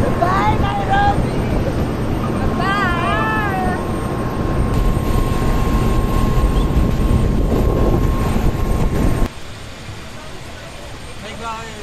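Aircraft cabin on a one-hour flight from Nairobi to Malindi, where a loud steady engine roar fills the space, a cat meows a few times early on, and the drone drops abruptly near the end.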